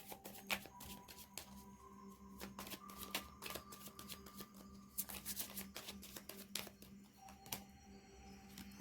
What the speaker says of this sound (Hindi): और दो कार्ड्स हम निकालेंगे।